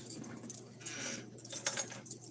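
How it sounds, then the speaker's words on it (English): A bunch of keys on a key ring jangles and clinks close by in several bright metallic bursts, with no talk. "Oh, let me see if that key's still on these keys."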